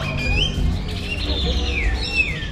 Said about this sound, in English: the space is full of birds, which sang so loudly throughout the entire day.